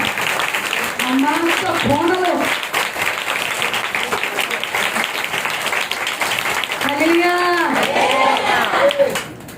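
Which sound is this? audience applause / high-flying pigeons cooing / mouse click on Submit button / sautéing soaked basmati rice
audience applause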